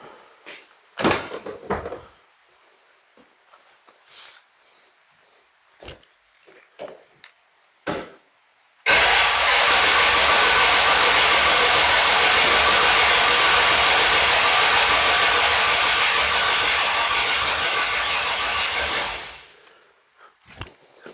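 A Stella scooter engine cranks over steadily for about ten seconds, a loud continuous whirring starter drone, preceded by scattered clicks and knocks in a garage, with no voices.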